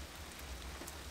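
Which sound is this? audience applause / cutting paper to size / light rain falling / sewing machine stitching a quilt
light rain falling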